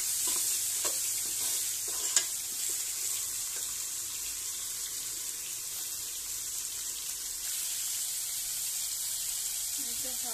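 Salted tomatoes fry in a pan for a magur fish curry with vegetables, giving a continuous soft sizzle with a few light scraping stir clicks early on.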